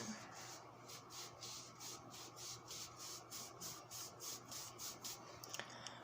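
Homemade wax is rubbed into skin, making a soft, rhythmic brushing swish. Around a dozen even strokes repeat back and forth at a close, quiet level.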